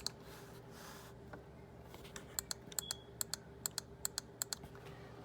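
Quiet clicks from a Cimetech wireless mouse, about a dozen sharp, faint ticks in an irregular run over a low background hum, with no talking.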